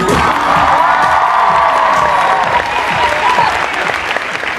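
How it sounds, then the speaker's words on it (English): A Comic Con panel crowd breaks into applause and cheering for a dancer on stage, with loud clapping, shouts and whoops, and voices mixed into the noise. "Give him a round of applause."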